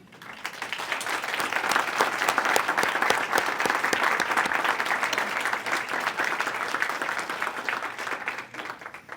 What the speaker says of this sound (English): I'll ask you to hold on the applause for the rest